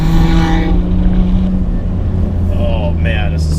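A steady, low engine drone with a throaty exhaust note from a 1999 Nissan Skyline GT-R R34 V-Spec, continuous and close, with talking over it.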